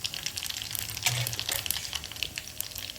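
Indian tadka tempering with chili, cumin and mustard seeds: a close, crackling hot-oil sizzle with scattered pops and a brief stirring scrape, continuous for three seconds.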